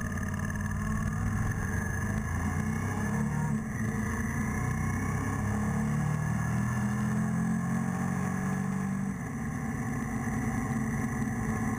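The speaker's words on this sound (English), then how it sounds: "You'll see a bike pass by in front of us." A motorbike rides past close in front amid steady engine and road noise on a group ride, a continuous loud rumble with a slight swell midway and no talk.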